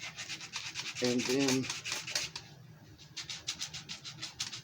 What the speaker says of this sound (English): kind of got to sand away at places, see how they're going to be